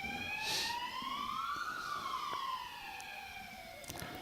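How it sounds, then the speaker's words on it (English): An emergency vehicle siren wails from a distance outside a sports venue, its pitch sweeping up then slowly down in a long continuous tone, faint but clear, with a few distant knocks. "Another siren."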